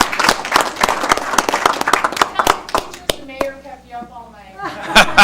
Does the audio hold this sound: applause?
yes